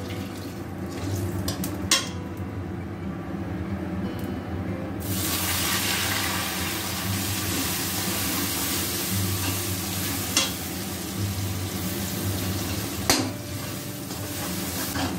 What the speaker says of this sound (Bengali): এখানে 150 গ্রাম পনির আমি গ্রেট করে নিয়েছি, এখন দিয়ে দেব তেলের মধ্যে।